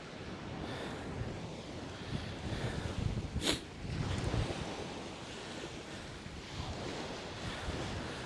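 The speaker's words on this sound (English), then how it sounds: "Really windy over here." Strong wind blows across Coney Island beach on a freezing winter evening, a steady roaring rush with buffeting gusts against the microphone and surf-like hiss, with one brief sharp gust spike midway.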